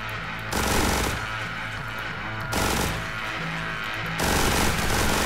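Bursts of heavy gunfire in The Hong Kong Massacre shooter game, three loud broadband volleys separated by brief quieter gaps over a low rumbling backdrop, with no talking.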